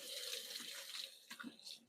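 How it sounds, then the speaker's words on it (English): Tap water runs into a kitchen sink as hands are rinsed, a soft splashing stream heard quietly for a couple of seconds. "Let me give my hands a quick rinse."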